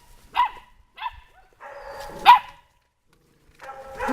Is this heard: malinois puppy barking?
yes